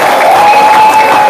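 An audience at an Islamic preaching show claps harder on request, a loud continuous burst of many hands, with a faint tonal ringing, likely feedback or a held note, running through it.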